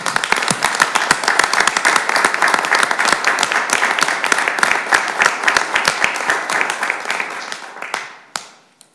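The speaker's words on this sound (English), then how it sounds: "I think that it would be nice to give a round of applause" Applause fills a council meeting chamber, a steady round of clapping from a room of people that carries on for several seconds before trailing off into a few last claps.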